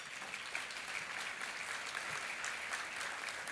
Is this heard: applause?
yes